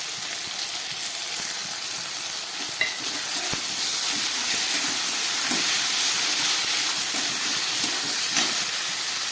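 A paste of ground poppy seed, cashew and raisin goes into a hot pan, giving a steady hissing sizzle with faint stirring scrapes and small clicks, no voices.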